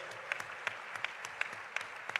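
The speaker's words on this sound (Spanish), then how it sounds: "Un aplauso, por favor." An audience at a live political event in Mexico applauds, with a soft bed of crowd clapping under a few sharper claps that land close and at a regular, almost rhythmic pace.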